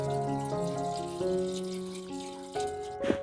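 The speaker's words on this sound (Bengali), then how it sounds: "সেই কারণে হাঁড়িতে দেব জল।" Water pours steadily into a cooking pot for boiling mankochu (giant taro) in a kitchen, with a continuous ringing, gurgling fill that shifts as the pot fills, ending in a brief louder splash.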